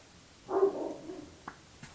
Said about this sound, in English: Sorry if you can hear my neighbor's dog.